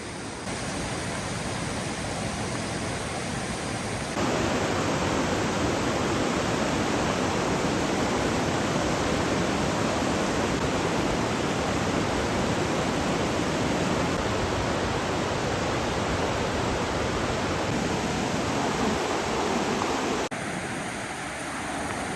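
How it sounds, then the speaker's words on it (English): Flooded Oak Creek whitewater in central Arizona, a loud, dense, unbroken roar of rushing water close by, steady for most of the stretch, with a quieter edge at the start and end. "Some really impressive whitewater over here."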